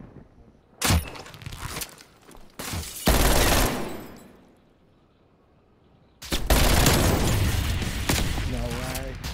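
Gunfire in Call of Duty Cold War comes as several loud, sharp bursts with quiet gaps between them, ending in a long, sustained barrage.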